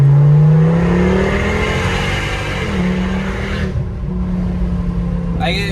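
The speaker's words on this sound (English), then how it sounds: "But the exhaust, no, it sounds pretty good." 2011 Volvo S40 T5 with muffler and resonator delete, revving with a loud, raspy exhaust tone that climbs and holds through several seconds, close by, with a brief break near the end.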